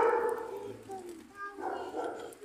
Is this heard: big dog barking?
yes